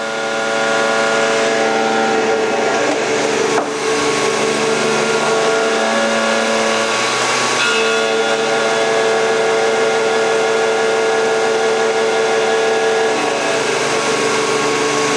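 A scratch-built miniature copy of a Fadal VMC 15 CNC mill cuts metal with a loud, steady mechanical whine and layered tonal hum that runs continuously, shifting pitch slightly as the feed changes, with no talking.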